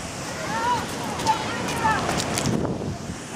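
Steady broadband rush of flowing water near a waterfall on a hike, continuous and fairly close, with faint high chirpy tones and brief distant voices over it.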